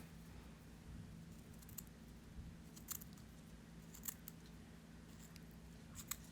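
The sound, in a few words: scissors cutting lace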